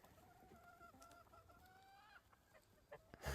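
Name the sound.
chickens clucking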